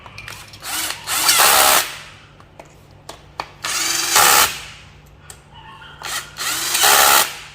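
An electric drill whirs in several short bursts of a second or so while assembling a brush cutter, separated by quieter pauses with small clicks and handling noises.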